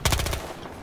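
MP7 submachine gun firing in a video game, a quick burst of about five rapid shots crowding the first part of the moment and then cutting off into a low rumbling tail.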